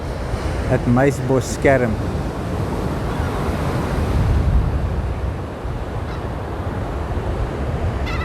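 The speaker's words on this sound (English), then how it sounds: "Now this is from the beach" Surf washes steadily onto the beach at Elands Bay, a loud continuous roar of waves mixed with wind buffeting the microphone, and someone speaks briefly near the start.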